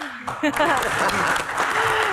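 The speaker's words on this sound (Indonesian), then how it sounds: "tepuk tangan buat Kang Maman." An audience claps on a talk show during guest introductions, with the applause running under a host's speech throughout this short stretch.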